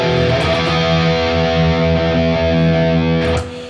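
Heavily distorted electric guitar plays the closing two bars of a riff, a short burst of sustained, thick overdriven tones, loud and close, that cuts off near the end.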